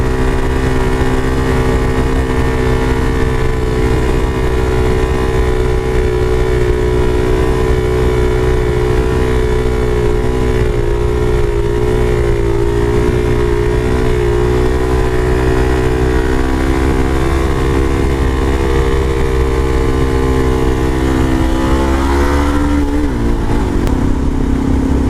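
A Suzuki DRZ supermoto motorcycle drones loudly in third gear at a steady, harmonic engine pitch that wavers slightly and then drops sharply near the end, with wind buffeting throughout.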